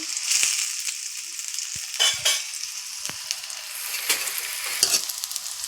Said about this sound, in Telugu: కరిగి పెట్టుకున్న ఉల్లిపాయలు వేసానండి